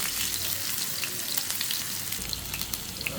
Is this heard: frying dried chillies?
yes